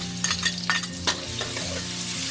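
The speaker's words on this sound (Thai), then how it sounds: "หลังจากน้ำมันร้อนค่ะ เราใส่กระเทียมลงไปเลยค่ะ" Garlic dropped into hot oil for a stir-fried fish with celery dish, an immediate bright crackling sizzle with a few spatula knocks against the pan, steady and close, no voices.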